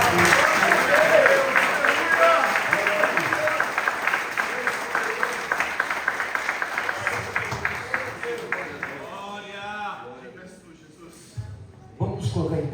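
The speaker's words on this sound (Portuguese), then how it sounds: "Você pode aplaudir o Senhor por essa palavra?" Church congregation applauding, dense clapping that fills the space and then thins into scattered claps and fades, with a voice speaking briefly near the end.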